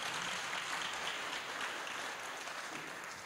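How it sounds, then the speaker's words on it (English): An audience at a hospitality event gives a round of applause for Tanya, an even wash of clapping lasting about three seconds with no voices on top. "Can you please give a round of applause once more"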